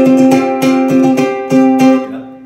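A ukulele strummed with the side of the finger in a loose rhythm, chords ringing with a slightly muffled, soft attack on each stroke, close and clear with no talking.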